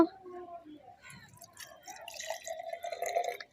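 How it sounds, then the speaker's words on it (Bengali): Milk poured into a juicer in a home kitchen, a light trickling and dripping liquid sound that builds toward the end, heard faintly beneath a speaking voice. "আমি জুসারের মধ্যে এই দুধটাকে এবার ঢেলে দেবো"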